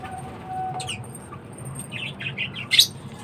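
Pet budgies chirp and tweet in short bright bursts while being fed seed, several calls clustered near the end over a low background rumble.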